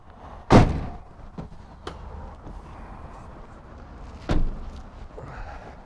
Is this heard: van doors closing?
yes